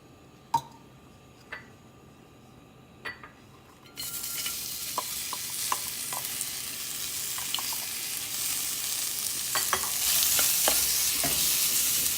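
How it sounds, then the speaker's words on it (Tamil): Chopped onions fried in oil for a hotel-style onion salna: a few spoon taps on a quiet pan, then a sudden loud sizzle that keeps going under repeated stirring clicks and scrapes, steady and close. "இப்போ கொஞ்சம் ஆயில் விட்டு கட் பண்ணி வச்ச வெங்காயத்தை ஃப்ரை பண்ணிக்கலாம்"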